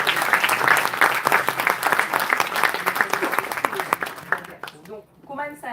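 Dense clapping from a large audience, steady and loud for several seconds, then thinning out as a few voices speak near the end.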